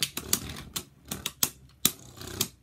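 Beyblade spinning tops launched by ripcord into a plastic stadium, giving sharp clacks and collisions at irregular intervals, close and fairly quiet, with no talking.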